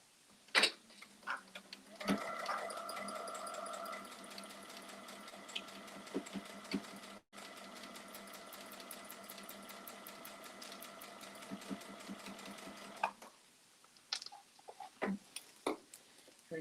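A sewing machine runs steadily while stitching quilt block seams, a close, rapid, even mechanical chatter lasting several seconds, with a brief pause and light handling noises before and after.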